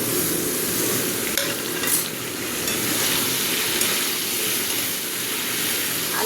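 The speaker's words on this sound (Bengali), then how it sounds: "এই যে আমি টমেটোগুলো দিয়ে দিচ্ছি।" Tomatoes tipped into potatoes frying in a pan for tomato aloo posto, giving a steady broad sizzle with brief stirring scrapes, close and fairly loud, with no voices.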